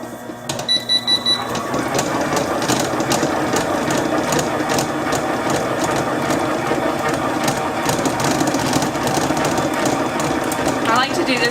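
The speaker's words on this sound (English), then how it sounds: "So we're at our mixer with the brown sugar, white sugar, and butter. And we are going to cream that." A stand mixer creams butter with brown and white sugar, running as a loud, steady mechanical whir with a rhythmic clatter that continues close up for the whole stretch after a brief start.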